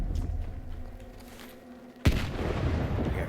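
A grenade goes off in S.T.A.L.K.E.R. 2 with one sharp, loud blast that settles into a rumbling tail over a constant low ambient drone.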